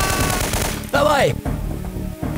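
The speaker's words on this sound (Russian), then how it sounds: "Маджори, перестрелка в западном комплексе" Gunfire in a shootout in the video game Syphon Filter 3, rapid close bursts of shots with a brief shouted voice cutting through midway.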